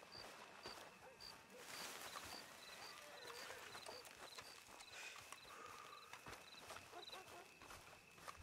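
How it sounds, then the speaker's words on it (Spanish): A white horse's hooves clip-clop in Red Dead Redemption II, a steady walking rhythm of faint, distant thuds beneath a busy mix of game ambience and voices. "es un caballo blanco."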